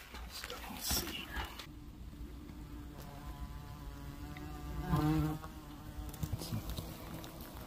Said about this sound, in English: So this species is the German yellow jacket, Vespula germanica anthic